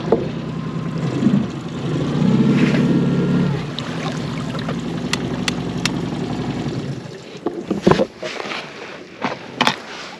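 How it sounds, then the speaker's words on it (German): A fishing boat motors steadily against the current on a small ditch, its low engine drone loudest early on with water wash and wind, then thinning out as small knocks and clicks come through near the end. "Also müsst ihr permanent mit dem Boot dagegen fahren,"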